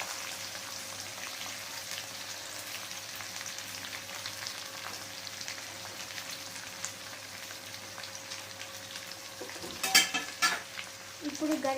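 Onion frying in a pan for a tomato curry, with a soft continuous sizzle and light stirring scrapes throughout, then louder clatter of the utensil near the end.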